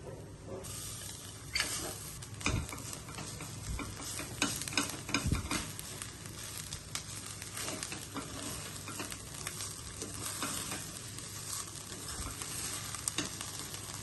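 Rice is stirred into tempered grated coconut in a pan for coconut rice prasadam, with a spoon scraping and clattering irregularly over a faint, steady sizzle.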